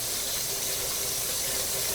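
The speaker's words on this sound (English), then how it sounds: "So just one last final rinse." Makeup brushes get a final rinse under a running tap, giving a steady, even rush of water that continues unbroken throughout with no talking.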